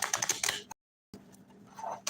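Light card shuffling at close range: two short bursts of quick, dense riffling and flicking separated by a brief silence, the second burst softer and more scattered.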